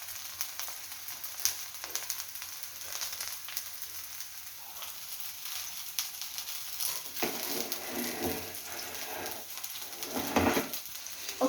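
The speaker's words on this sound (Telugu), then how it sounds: "ఇప్పుడు దాంట్లో ఆయిల్లో వేసుకొని రోస్ట్ చేసుకోవాలి." Food is roasted directly in hot oil and turned from one side to the other, giving a steady close sizzle and crackle with a few louder spatters and no talking.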